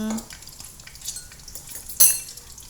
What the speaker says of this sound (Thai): เจียว ให้สุกนะคะเพราะว่า นี่เพิ่มความหนาไปก็จะใช้เวลานิดนึง